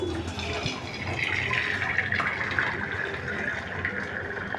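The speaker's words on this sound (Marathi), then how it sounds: "आता मी हे पाणी काढते" Water being poured out of a cooking pot through a strainer while making noodles: a steady, gushing splash that runs without pause, close and moderately loud, with no talking.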